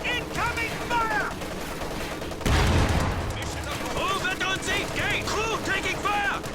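Rapid bursts of gunfire and a heavy explosive boom crackle through a WWII tank battle in a strategy game, a Sherman tank in the fight, with radio-style voices and high whistling calls layered over continuous shooting.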